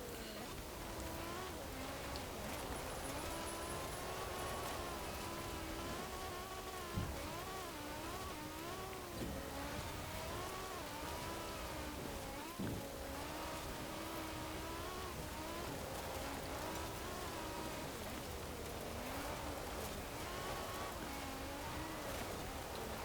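A 2019 BMW Z4 Roadster engine in Forza Horizon 4 drones continuously while driving on gravel, its pitch rising and falling as it revs, steady and unbroken with faint background noise.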